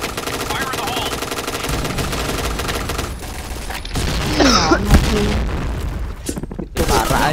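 In the Point Blank shooter game, rapid automatic gunfire rattles almost continuously and a grenade blast booms about midway, loud and up close, with players' voices at times underneath.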